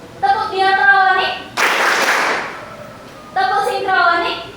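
A class of standing high-school students claps together in a history lesson's diachronic clap pattern, producing a dense burst of many hands at once, bracketed by spoken voices before and after.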